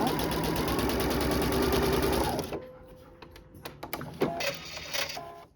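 A sewing machine stitching fabric piping with cord inside runs in a steady rapid whir for about two seconds, then stops, followed by quiet handling clicks and rustles.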